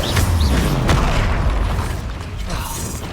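Incendio fire spell cast in Hogwarts Legacy during a spell-heavy fight, a dense whooshing burst of flame with booming low rumble and a mechanical crackle, loud and continuous for about three seconds.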